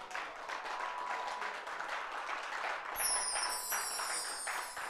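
An audience at a Hindu religious discourse on the Yoga Vasishtha claps in a thin, scattered way, faint and somewhat distant, with a high tone appearing partway through.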